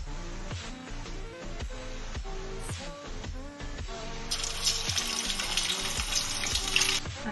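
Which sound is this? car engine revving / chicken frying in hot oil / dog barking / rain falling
chicken frying in hot oil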